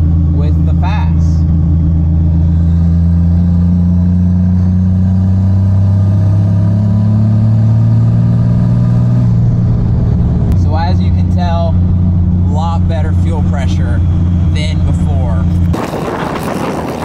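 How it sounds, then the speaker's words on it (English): A 2004 Ram 3500 dually diesel pickup pulls in fifth gear, a loud, close, droning engine rumble that climbs steadily in pitch, heard from inside the cab with a voice talking over it. "Just gonna give you all a little bit of a fifth gear roll on"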